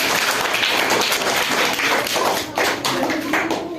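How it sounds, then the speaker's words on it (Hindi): Loud, dense applause from an audience at a school Saraswati Puja ceremony, steady rapid clapping filling the whole stretch, with faint voices mixed underneath. "जोरदार तालियां।"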